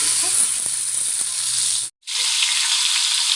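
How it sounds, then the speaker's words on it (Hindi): Fish frying in hot cooking oil on the stove, a loud, steady crackling sizzle that briefly cuts out before resuming just as strong. "गरम होने पे रखेंगे फ़िश।"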